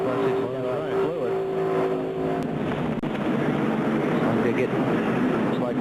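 NASCAR race cars roar past at speed as one car runs into the back of the 20 car in a pileup, a dense, loud engine drone broken by a sharp impact partway through.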